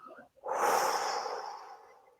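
A long, slow exhale during a guided meditation, soft and close, following a brief spoken word and fading out gradually.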